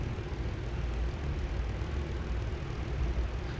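FW190 fighter plane engine in the War Thunder simulator, a steady low droning propeller roar holding constant and fairly faint, with no talking over it.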